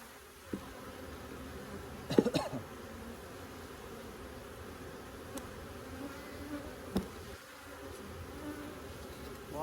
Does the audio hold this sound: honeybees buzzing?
yes